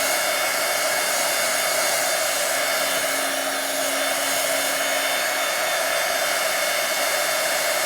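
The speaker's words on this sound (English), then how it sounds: "Now I'm gonna get my heat tool and I'm gonna heat it up to dry it." A heat tool blows continuously at close range, drying a gesso-coated embossed journaling page with a steady, loud, whooshing hum and a faint tonal whine; no speech.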